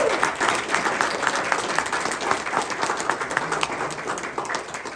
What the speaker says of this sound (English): A round of applause for our fearless board chairman.